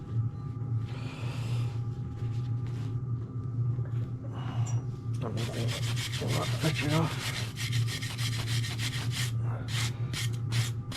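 Rust being ground off the metal of a van down to bare steel makes a steady abrasive rubbing roar under a low machine rumble, with rapid scraping strokes growing denser in the second half.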